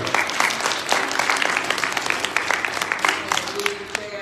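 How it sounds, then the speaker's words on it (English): Church congregation clapping together during a district planning meeting worship service, a steady dense applause with sharp individual claps throughout, moderately loud and filling the room. "put your hands together and give God a clap"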